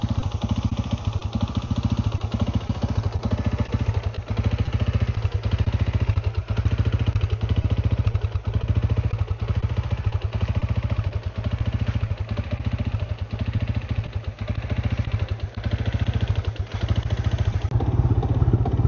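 A Yamaha LC135 motorcycle engine running steadily, a close, loud, rhythmic mechanical chugging and clatter that holds an even pace throughout with no talking.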